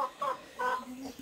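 Chickens in a small farm coop give a few short, nasal clucks in quick succession, close by and fairly quiet, with no talking.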